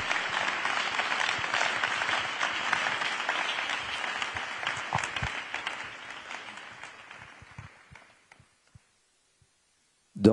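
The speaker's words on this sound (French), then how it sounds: "Si vous voulez, vous pouvez applaudir un peu," A crowd of Olympic athletes gathered for a group photo at the Paris 2024 welcome claps in a dense burst that thins out and fades to near silence, ending with a sharp knock.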